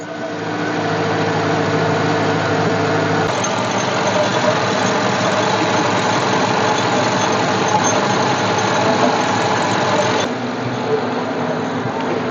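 A 2007 Chevrolet engine idles close and loud after a radiator swap, with a rattling belt tensioner or idler. The running drone holds steady and continuous with a faint mechanical chatter.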